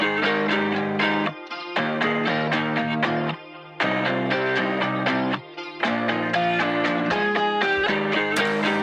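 Two layered pop guitar parts play together in a bright, busy rhythmic pattern, phrases broken by brief gaps, loud and upfront with no voices.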